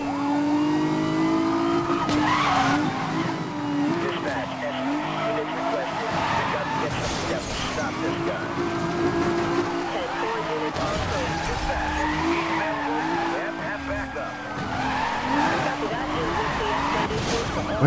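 A Nissan 350Z drifts through police roadblocks in Need for Speed Most Wanted (2012): loud, continuous tire squeal and skidding over a steady engine roar. Someone talks over it throughout.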